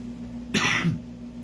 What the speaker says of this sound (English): I'm still getting over my cough